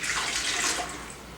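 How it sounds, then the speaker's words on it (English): Warm water poured into a bowl for bread dough gives a steady, rushing splash that holds briefly and then eases off slightly, close and fairly loud. "We're going to put in warm water."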